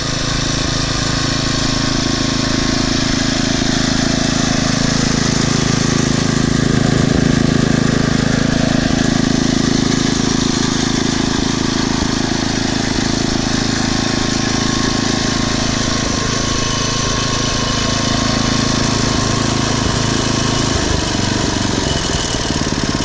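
A Poulan/Weed Eater garden tiller with a 5HP Briggs & Stratton engine runs steadily and loudly close by, with a constant low drone throughout and a slight change in pitch near the end.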